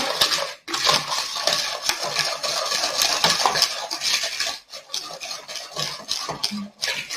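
Biscuit dough being mixed with butter in a bowl, brisk scraping and clinking of a utensil against the bowl in a steady, close rhythm with brief pauses.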